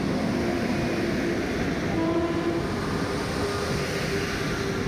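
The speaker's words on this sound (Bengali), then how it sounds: "আপনারা দেখতে পাচ্ছেন বন্দে ভারত স্লিপার ট্রেন কাটোয়া স্টেশনে প্রবেশ করেছে" A Vande Bharat sleeper train rumbles steadily nearby with a low continuous roar and faint tonal hums, rolling into Katwa Station without pause.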